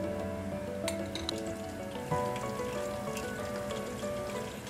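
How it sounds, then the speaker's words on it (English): Kibbeh, stuffed meatballs of meat and chickpeas, frying in hot oil over high heat, giving a continuous close sizzle with scattered pops and small clinks, steady and unbroken with no voices. "To fry, add the meatballs to the heated oil. Fry over high heat for 5 minutes and remove."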